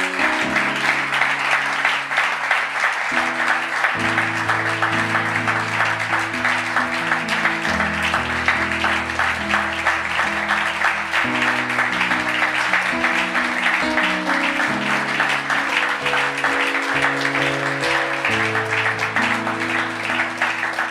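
Sustained audience applause at a Christian seminar gathering, steady dense clapping that continues for a long stretch while organ-like sustained chords play underneath.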